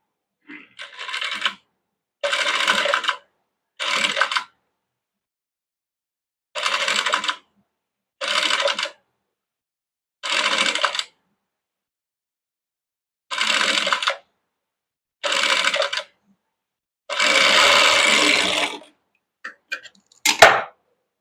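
A sewing machine stitches a folded fabric edge onto canvas for a round-collar kurti, running in repeated short bursts of about a second each with brief pauses between, close and fairly loud, with no talking.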